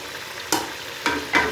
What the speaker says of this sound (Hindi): अब इसमें चिकन ऐड करते हैं ताकि चिकन और इस तरह इसकी बुनाई हो जाए।